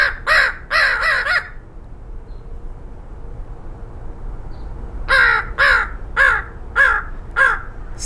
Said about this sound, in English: Again, an entire flock of crows flying up there.